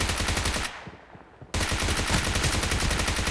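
Rapid automatic gunfire in an online shooter match, dense bursts of shots that break off for a moment, then resume loud and close.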